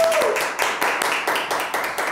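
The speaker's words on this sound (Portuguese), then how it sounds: "Aplausos pro telespectador" A TV studio audience on a live news program claps in a steady rhythm, about four beats a second, loud and close, with a voice briefly audible at the start.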